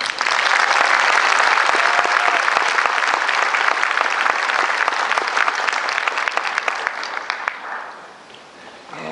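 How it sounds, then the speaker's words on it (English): Graduation audience at a 2012 University of Phoenix Nashville campus ceremony applauds its faculty, a loud, dense wash of clapping that holds steady for most of the stretch before thinning out near the end. "Please join me in a round of applause for your faculty members."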